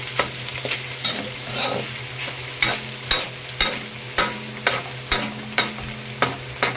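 Spaghetti sauce stirred in a pan, with rhythmic scraping strokes of a spoon repeating about once every half second over a low steady sizzle, close and loud, with no talk.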